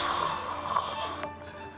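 Dramatized creepy breathing, a faint, drawn-out rasping breath with a short exhale near the end, heard alone at low level.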